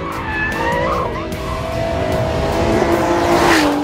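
A sports GT car slides under aggressive throttle, its tires squealing in long rising and falling wails over a loud engine roar, close and continuous throughout.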